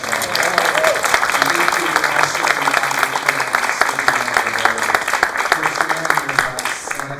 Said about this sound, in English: can we get another round of applause for all the speakers tonight?